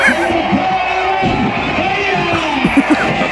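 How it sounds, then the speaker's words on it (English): A large crowd cheers and shouts at a parade, a dense, loud wash of voices with scattered whoops rising and falling, plus a few nearer shouts throughout. "listen to the crowd"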